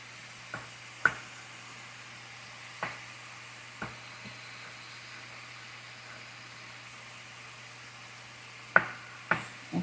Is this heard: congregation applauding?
no